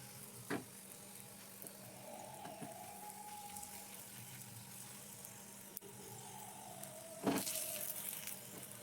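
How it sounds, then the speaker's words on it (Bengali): A soft, steady sizzle of wheat-flour dough frying in about a teaspoon of oil, faint and continuous, with a couple of light clinks. "2 পিঠ উল্টে পাল্টে একটু লালচে কালার করে ভেজে নিব"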